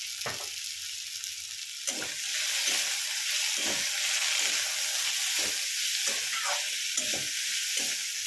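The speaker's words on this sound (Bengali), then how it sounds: "আলুটাও ভালো করে ভেজে নিয়ে আমি ফেলে দেবো" Potatoes fry in a pan with a continuous crackling sizzle, while a utensil scrapes and stirs them at a regular pace, all close up and without speech.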